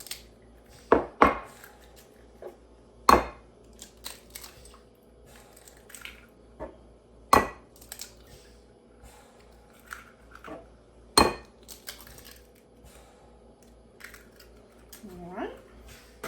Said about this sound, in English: I'm gonna crack my eggs and then lightly beat them